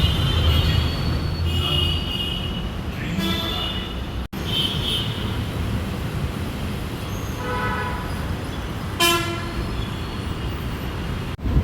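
A metro train at a station, with loud wheel squeal and rolling rail noise throughout, a brief horn-like tone near the middle and a steady rumble of carriages close by, with no talk.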